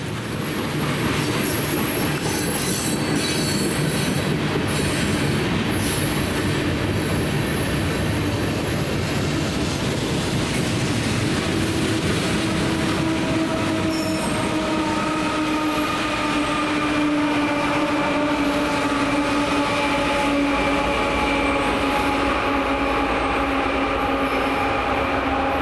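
An eastbound G Line light rail commuter train pulling in, a loud steady rumble of wheels on rail with rising squeals and tonal whines as it slows, continuous throughout with no talking.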